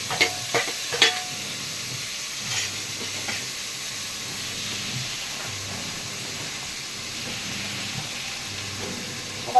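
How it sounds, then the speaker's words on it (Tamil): Onions and tomatoes sauté in a pan with a steady, continuous sizzle and hiss. A few clacks of stirring come early on, then the frying carries on evenly up close with no talking. "இப்போ வெங்காயம் நல்லா வதங்கிடுச்சு இப்போ தக்காளி போட்டுக்கலாம்"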